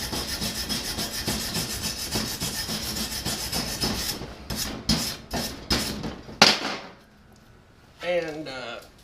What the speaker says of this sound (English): Just scrape across. And the slag will fall right off.